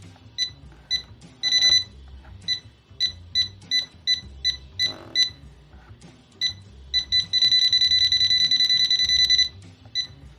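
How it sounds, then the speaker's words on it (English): A HOLDPEAK HP-41B multimeter's voltage detector beeps in quick high-pitched intermittent chirps, then holds a long continuous tone near a power source, loud and close, with faint handling noise beneath. "Nice and loud. This is a loud little meter."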